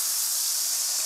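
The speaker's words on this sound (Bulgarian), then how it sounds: "В същия тиган сипваме бялото вино." White wine poured into a hot frying pan sizzles with a dense, even hiss, close and steady throughout the brief moment.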